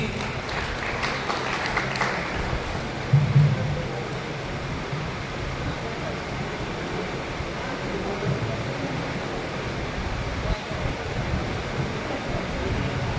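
Applause from a crowd at a community felicitation ceremony honouring a retiring officer, steady diffuse clapping that continues throughout with a little background chatter, somewhat distant.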